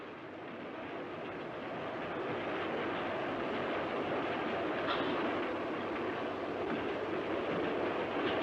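A train rumbling along steadily in a 1940 film, a dense continuous roar that swells slightly and holds, with faint rhythmic clatter underneath.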